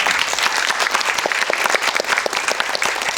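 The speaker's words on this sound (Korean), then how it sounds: "다시 한번 이 팀에게 박수 부탁드립니다" Cinema audience at a film talk event clapping for the team behind the movie 'Letter from Kyoto', brisk, dense applause with sharp individual claps throughout.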